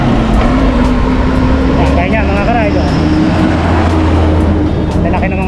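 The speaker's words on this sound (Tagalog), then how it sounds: "kasi maraming dumadaan ng mga malalaking truck" Large 10-wheeler trucks hauling soil roar past on an uphill rural road near San Pablo, Laguna, a loud continuous engine drone and rumble close by, with wind buffeting throughout.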